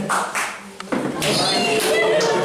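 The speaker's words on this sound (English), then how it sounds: "Clap for them." An audience at a school in-house event claps for the prize winners, a crowd's applause rising and holding steady after a few scattered hand claps, with a voice talking over it at first.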